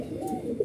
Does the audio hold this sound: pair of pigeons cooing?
yes